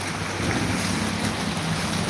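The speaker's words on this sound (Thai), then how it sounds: "น้ำท่วม เต็มหมู่บ้านเลย เป็นน้ำตกไปแล้วครับผมหมู่บ้านนี้" Floodwater rushing through a flooded Thai village in Ang Thong like a waterfall, a loud continuous roaring wash with wind buffeting the microphone, steady and close throughout, with no talking.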